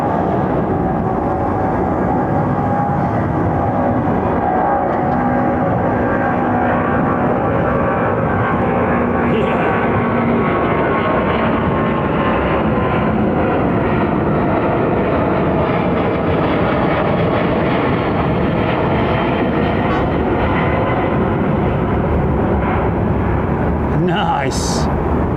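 Boeing 777-200 jet airliner at Heathrow Airport, a loud, steady broadband engine roar that holds for the whole stretch with slowly shifting tones, while people talk over it.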